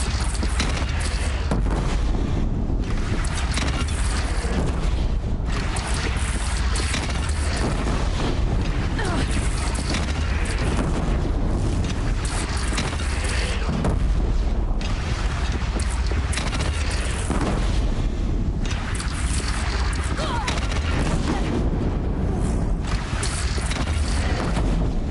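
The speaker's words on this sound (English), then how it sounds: "They only have one cannon!" Cannon fire and explosions boom throughout a battle against a bandit clan in the video game Horizon Zero Dawn, forming a dense, continuous roar of blasts and gunfire with no clear gaps.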